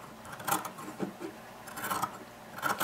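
Scissors cut slits along the edge of a fleece doll blanket, a few soft, close snipping and rustling strokes at irregular intervals, faint and without talk.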